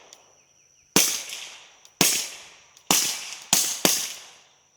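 Five sharp suppressed gunshots from a rifle fitted with a Silencerco suppressor crack out about a second apart, each a loud close report with a short decaying tail, separated by near silence.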